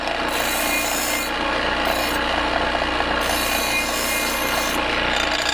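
Continuous abrasive rasping and whirring of a 1986 disc sander with an aluminum disc grinding against material, steady and close, with slight surges in the high hiss.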